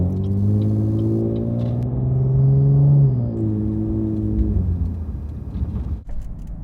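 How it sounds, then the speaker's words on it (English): Cadillac CTS-V with a Corsa axle-back exhaust revving and accelerating, a steady deep rumble with rising and falling engine tones, heard from inside the car with the sound coming from behind, then easing off near the end. "I'm actually hearing the exhaust and not like other cabin drone and such."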